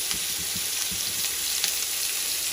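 Chicken pieces, including a leg piece, sear in hot oil in a pan over a high flame, making a steady close sizzle with soft crackles and pops and no talk.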